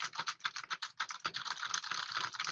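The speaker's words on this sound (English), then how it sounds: "Typing on a keyboard." Fast typing on a computer keyboard gives a rapid, dense run of clicky keystrokes, close and steady with no talking.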